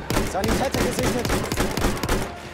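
Enemy gunfire in Battlefield 1, a rapid burst of repeated shots cracking in quick succession over the whole stretch, fairly loud and close amid battlefield noise.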